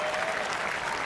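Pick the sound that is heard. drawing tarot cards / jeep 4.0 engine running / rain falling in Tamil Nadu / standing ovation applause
standing ovation applause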